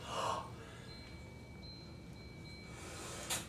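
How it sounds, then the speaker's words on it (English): A man in the early stages of Parkinson's sharply inhales a puff. A brief, close gasp opens the clip and a second short intake follows near the end, with a low steady hiss in between. "Inhale and puff."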